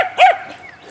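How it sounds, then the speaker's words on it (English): A short sharp yip from a small dog, a single loud bark up close that quickly fades to quiet. "Little doggies are going crazy."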